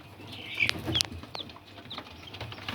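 Faint, scattered high chirps from newly hatched Leghorn chicks over a low background hiss, a few peeps spread irregularly across the moment.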